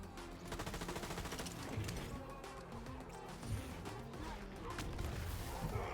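Dense, continuous gunfire in a video game, rapid automatic bursts mixed with heavier impacts, loud and sustained throughout with no pauses.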